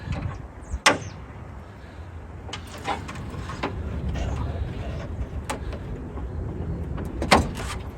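A replacement front grille is pushed onto a 1998 Ford Ranger, giving a few sharp plastic snaps and clunks. Soft handling noise fills the quiet gaps between them.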